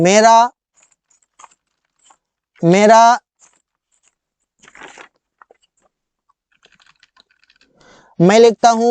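Light keystrokes on a computer keyboard tap in short, sparse clusters between loud bursts of voice, soft and close.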